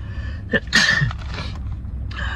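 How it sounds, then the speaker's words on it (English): A single sharp sneeze, close and loud, with a quick breath before it and quiet room tone around it. "Oh, I gotta sneeze."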